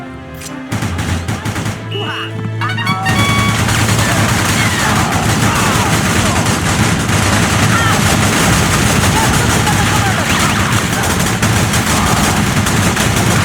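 Sustained, loud machine-gun fire from an MG nest in the Battalion Wars video game, an unbroken rattling barrage with a few game sound effects before it.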